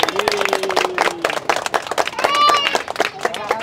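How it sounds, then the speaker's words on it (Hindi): A crowd at a public Janta Darbar gathering claps loudly for Anjali Didi, sharp rapid hand claps layered over shouting voices and a brief whistle-like tone, close and lively throughout. "अंजलि दीदी के लिए एक बार जोरदार तालियां बजाओ।"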